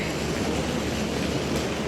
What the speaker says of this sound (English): It's reversing into the train station here.